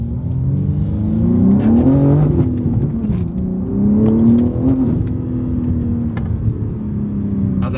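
An Imola Red BMW G80 M3 with an equal length mid-pipe revs hard on a wet road, its exhaust note rising and falling in two loud surges with a throaty drone between, close and without talk.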